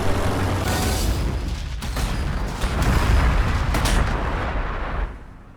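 Units open fire in the strategy game Warhammer 40,000: Gladius, producing a dense, loud barrage of booming artillery and gunfire that rumbles on steadily for several seconds before cutting off near the end.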